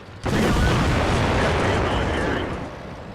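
A deep, powerful tank cannon blast in World of Tanks erupts suddenly and rumbles on for a few seconds, loud and booming with a long decaying roar.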